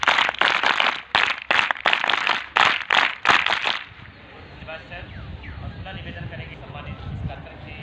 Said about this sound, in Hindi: सब एक साथ हाथों पर ताली बजा